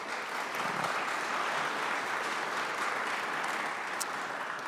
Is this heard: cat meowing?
no